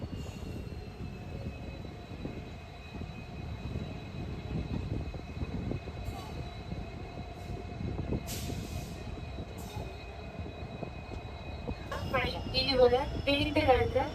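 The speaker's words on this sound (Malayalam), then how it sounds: "വണ്ടി പ്ലാറ്റ്ഫോം നമ്പർ 4ലേക്ക് കയറിക്കൊണ്ടിരിക്കുകയാണ്" A passenger train pulls into platform 4 at a Kerala railway station, with a steady rumble of wheels and carriages, a high squeal of wheels, and a louder burst of clatter near the end as a voice talks over it.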